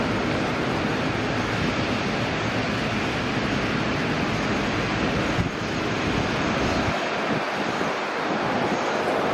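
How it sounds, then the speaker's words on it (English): An Airbus A380 moves past the runway at Sydney Airport, a steady, broad jet-engine roar heard from a distance, with some wind buffeting the microphone. "This A380 is just going past the runway, it looks like."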